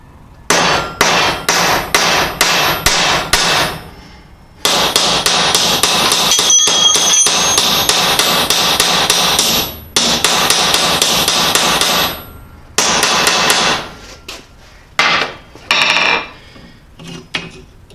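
A hammer strikes a rivet on a Gravely sickle bar cutter section, ringing metallic clangs in a quick series of sharp hits, then a longer sustained stretch of rapid pounding, broken by pauses and trailing off in scattered blows.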